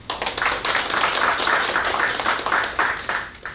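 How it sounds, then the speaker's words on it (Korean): A room full of guests applauds steadily at the Media Solidarity 5th anniversary ceremony in Korea, dense clapping sustained throughout and thinning slightly at the very end. "여러분 박수로 맞이해 주시면 고맙겠습니다"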